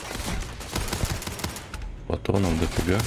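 Rapid gunfire from a weapon in the Starfield video game, a burst of sharp cracks and clatter layered over game sounds, with someone talking over the second half.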